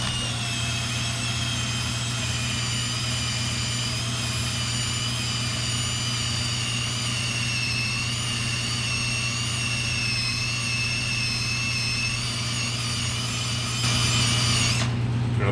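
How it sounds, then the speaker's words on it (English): A 3M eraser wheel strips leftover tape from a car rust-repair panel with a loud, steady, high-pitched whine over a low motor hum that runs unbroken for about fourteen seconds before shifting near the end. "it's a 3M eraser wheel for taking all that"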